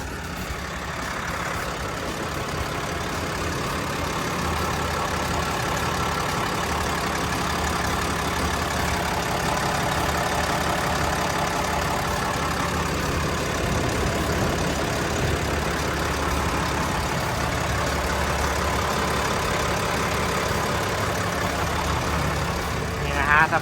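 A Komatsu WA500-8 wheel loader's diesel engine idles steadily and close by, a continuous low rumble holding level throughout, with someone talking over it.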